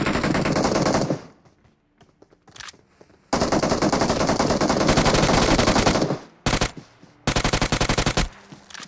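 Automatic gunfire in the mobile battle royale game BGMI rattles in loud, rapid bursts, broken by short gaps of near silence before the firing resumes.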